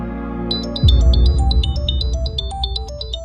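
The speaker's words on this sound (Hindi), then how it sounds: "मीठी का फोन" A phone ringtone plays loud and close as a bright, repeating electronic melody that kicks in after a deep low tone and runs continuously without any voices.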